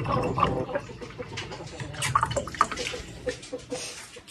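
Water splashes and gurgles as it is poured into a chicken waterer, a steady close-up flow with bubbling and dripping.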